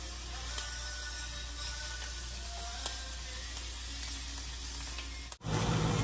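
Constant crackling sizzle of meat frying in a pan on the stove, steady and close, with a brief clatter near the end.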